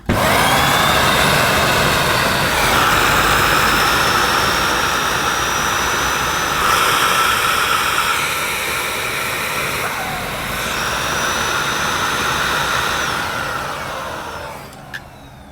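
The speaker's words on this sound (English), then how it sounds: "that adds to the noise level, obviously, as most turbo nozzles do" A Dyson Cinetic Big Ball Animal 2 canister vacuum with its turbo nozzle roars at a loud, steady whooshing drone that eases slightly near the end, close by.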